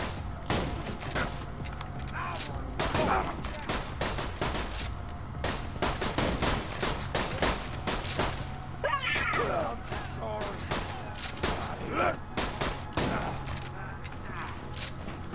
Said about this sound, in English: Let's get a shotgun out here.